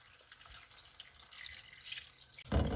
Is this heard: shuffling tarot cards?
no